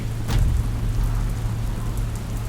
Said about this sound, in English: This is not your average storm. It rages right now, as we speak